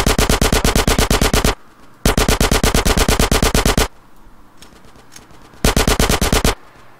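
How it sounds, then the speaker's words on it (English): Video-game machine gun fire in Grand Theft Auto San Andreas: three loud sustained automatic bursts of rapid, evenly spaced shots, separated by short lulls with faint background game sounds. "Get some suppressing fire in there!"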